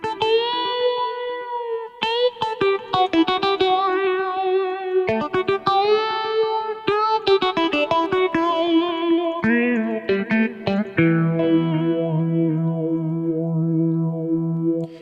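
A Ketron SD90 keyboard plays sustained notes and chords drenched in effects, with shimmering echoes and chorus-like swirl, shifting to a lower held tone near the end.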